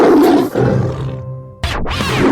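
A lion roars in deep, rough, drawn-out bursts, loud and close, with a harsh rising snarl breaking in near the end.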